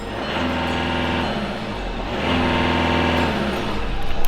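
A VW Golf Mk6 TDI diesel with its intake removed idles and revs up close by, a steady low engine rumble with a rise in loudness near the end.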